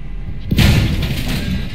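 Tank cannon firing in the video game Post Scriptum, one sudden heavy boom about halfway in, followed by a rumbling tail and the low drone of the engine.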